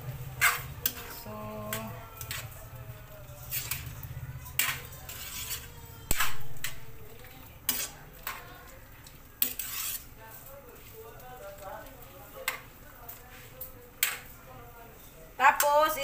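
Carrots being stirred in a cooking pan, with repeated utensil scrapes and clinks against the pan that come in irregular bursts alongside a background voice.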